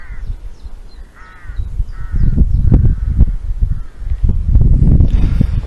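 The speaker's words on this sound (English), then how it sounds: "Listen to that. The crow." A crow caws several times outdoors near a church, its harsh calls carrying over steady wind rumble and rustling, moderately loud with some calls more distant.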